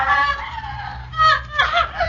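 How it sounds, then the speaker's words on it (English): A woman screams and wails in anguish in a 1943 wartime radio drama, with sustained high cries rising and breaking in several bursts, loud and close, with no talk over it. "That is the scream of a Yugoslav woman."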